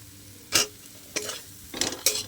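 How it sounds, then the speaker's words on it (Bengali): Potatoes tossed with fried spices in a pan while making a katla fish curry, with a few separate scraping stir strokes and brief sizzles against a quiet kitchen background. "মশলার সাথে আলুটা দিয়ে আমার খুব ভালো করে ভেজে নেওয়া হয়ে গেছে।"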